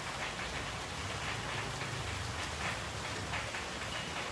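Steady, even rain falls continuously close by, a dense hiss of drops with no breaks and no voices.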